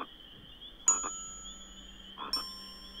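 Two soft bright dings ring out about a second and a half apart, each a short chiming note over a quiet steady hum.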